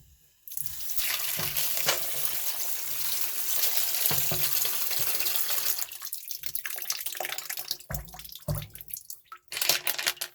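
Water runs from a tap over Lake Michigan rocks inside a Lortone tumbler barrel, a steady close splashing rush that breaks into short bursts and pauses near the end.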